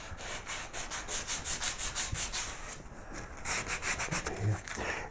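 Close, steady back-and-forth sanding on a carved wooden koi carp's dorsal fin, with rhythmic scratchy strokes repeating evenly for several seconds and no voices.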